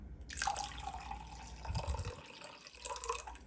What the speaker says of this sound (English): I'm going to mix in 115 grams of lukewarm water